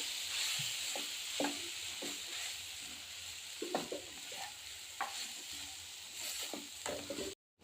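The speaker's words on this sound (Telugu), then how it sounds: "రైస్ వేసుకున్నాక మంచిగా మిక్స్ చేసుకుందాం" Rice being stirred and mixed into mint rice in a hot pan: soft sizzling under intermittent scraping and tossing strokes of a spoon, close by, with no talking.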